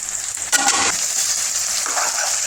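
Taro root pieces are stirred in a curry pan, giving a steady sizzling fry with a louder stirring scrape near the start, close and alone without talk.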